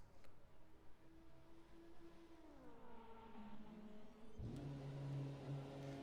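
A hybrid race car pulls out of a pit stop at the Sebring 12 Hours endurance race. A whirring electric drive rises smoothly, then the combustion engine cuts in with a louder, deeper roar that carries on to the end.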